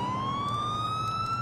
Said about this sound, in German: So, diese blöde Sirene.